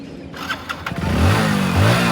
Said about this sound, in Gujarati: બરાબર ભાગવા બાઈક ચાલુ કરો.